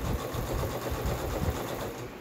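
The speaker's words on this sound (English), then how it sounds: "putting a stitch on the edge of this fabric, right around, to make sure that it doesn't ravel any further" Sewing machine running steadily as it stitches around the cut edge of fabric to stop fraying, a continuous low mechanical hum with fine rapid needle texture, fairly close and alone without talk.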